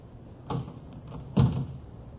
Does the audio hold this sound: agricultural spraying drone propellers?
no